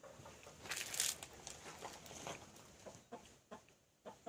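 A hen, one of two household chickens being caught and tied, gives several short nervous clucks and squawks nearby, loudest early on and then in sparse bursts.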